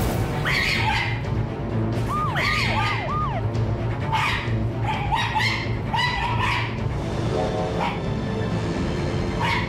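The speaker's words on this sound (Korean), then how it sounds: "금방이라도 싸울듯이 살벌한 분위기의 강아지와 고양이" A dog barks and yips sharply in short repeated bursts at a cat during a tense standoff, with a few whiny rising squeals mixed in over a steady background hum.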